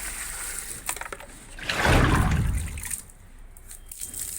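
Water pours onto garden plants in a rising then fading splashing rush, loud for a second or two, with faint trickling and dripping before and after.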